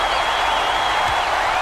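An arena crowd in the basketball video game NCAA 2K8 cheers loudly, with a dense, steady roar of voices and applause throughout.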